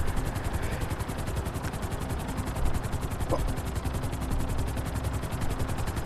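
Helicopter flown in the video game GTA 5, a loud rapid rotor thump pulsing steadily with a constant engine whine throughout.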